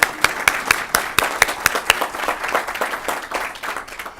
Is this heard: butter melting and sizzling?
no